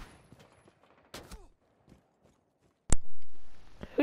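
Gunfire in the video game Rainbow Six Siege, a short crack early on and a loud sharp shot near the end, with sparse quiet footsteps and game noises between.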